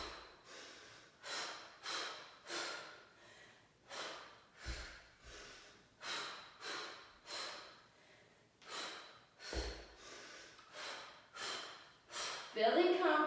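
Deliberate, rhythmic breathing during a confidence-building exercise, a series of about a dozen strong, evenly spaced breaths, close and fairly loud, with a brief thump or two between them.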